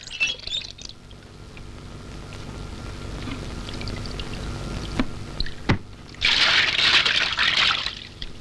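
Water is poured over a person during a ritual bathing scene in a comedy film, with a splashing gush at the start, a quieter stretch with faint chirps and knocks, then a longer, louder pouring rush near the end.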